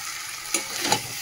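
Mutton sizzles and sputters while being sautéed in a pan, a steady, close frying hiss with a couple of brief stirring scrapes and no talking.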